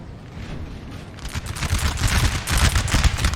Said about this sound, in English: See, the volleys are going to be deadly on both sides here at such a close range.